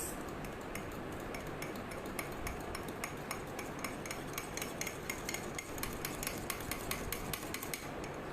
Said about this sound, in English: First, I'm going to give it a good mix.